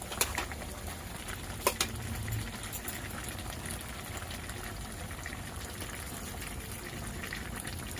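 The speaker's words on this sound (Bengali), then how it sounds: "এবার আমি পরিমাণ মতো জল দেব।" Water goes into a pot of chicken kosha curry with fried potatoes, making a soft, continuous bubbling and liquid rush with a couple of light knocks early on and no speech.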